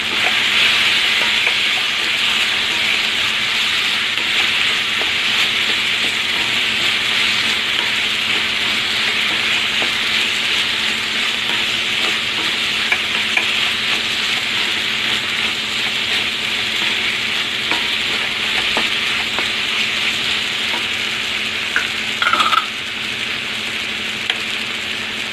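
Bitter gourd pieces stir-fry in hot oil for a thokku, a loud, continuous sizzling hiss with faint stirring scrapes and a brief clink near the end; no talking.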